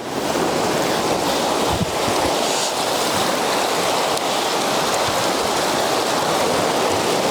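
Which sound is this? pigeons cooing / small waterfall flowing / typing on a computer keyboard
small waterfall flowing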